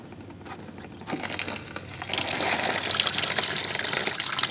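Coolant rushes out of an unclogged radiator during an LT1 small-block Chevy flush. The splashing gush starts weak and swells louder in two steps into a steady, close, continuous pour.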